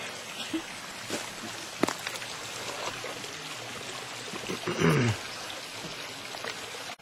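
Water from a spring trickles and pours out of a tree in an Oregon forest, a steady soft flow with brief louder splashes and a burst near the end.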